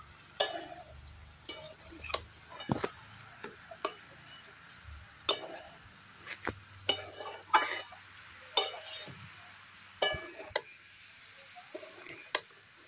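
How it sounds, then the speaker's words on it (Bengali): Cabbage stir-fried with spices in a pan, a spatula scraping and tapping the metal in scattered sharp strokes over a faint background, close and fairly quiet. "দেখো এবার এই মশলার সাথে কপিটাকে খুব ভালোভাবে আমি কষিয়ে নেব"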